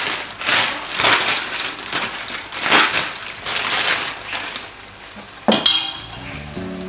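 Spinach leaves are stirred into egusi soup in a pot, making repeated loud wet, squelching sweeps against a sizzling bubble, followed by a sharp clink near the end.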